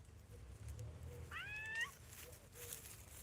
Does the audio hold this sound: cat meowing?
yes